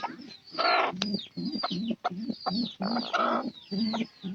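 Hens cluck close by in a busy run of short, throaty calls, rising and falling with brief pauses between bursts.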